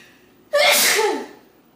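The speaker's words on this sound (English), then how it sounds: "I gotta sneeze per usual." One loud, sharp sneeze up close, a sudden explosive burst lasting under a second before fading to quiet.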